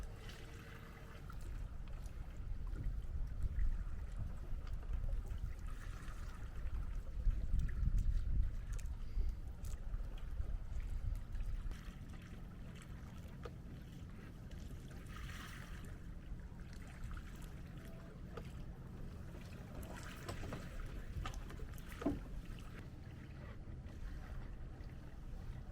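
A sailboat moves slowly at a little over 2 knots on a Maine cruise, with a steady soft wash of water along the hull and light wind, swelling briefly midway and otherwise calm and continuous.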